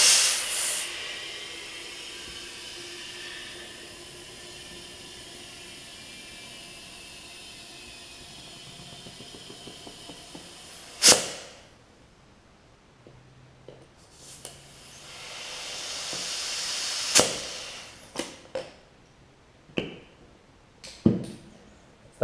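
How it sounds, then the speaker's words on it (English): Air hissing from a compressor line into the rear tire of a riding mower: a steady hiss that fades out over several seconds, then a quieter stretch with a renewed hiss and sharp clicks and pops near the end. "put a little bit more air in it"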